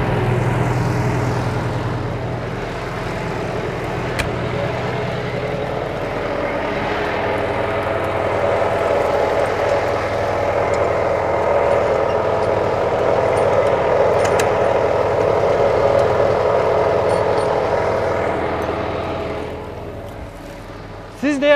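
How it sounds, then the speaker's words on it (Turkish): Tractor engine running steadily while plowing a field, a continuous low drone with a faint change in pitch partway through, sustained at a close, fairly loud level until it drops near the end. "Traktörümüz bir yandan sürümüne devam ediyor ve orta kolu olmadan devam ediyor."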